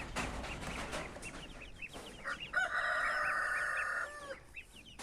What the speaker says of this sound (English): So that's Christina and Sakira, the 2 Swedish blue hens.